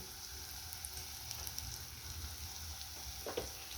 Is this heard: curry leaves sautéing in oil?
yes